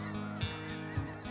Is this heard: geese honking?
yes